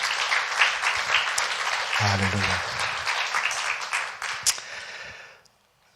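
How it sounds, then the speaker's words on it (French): Church congregation applauding at a Sunday service, sustained clapping throughout that fades out at the end, with a voice briefly calling out over it. "Je voudrais qu'on puisse applaudir Marc."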